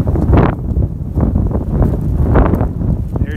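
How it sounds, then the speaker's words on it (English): Gusty wind buffets the microphone at an outdoor bee yard during open dry feeding of honey bees, a steady loud rumble that swells and eases in waves for a few seconds, with no voices. "It's gonna be a windy one."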